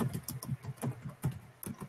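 Quiet, close keystrokes on a computer keyboard come in a quick, uneven run of soft clicks with short pauses between them.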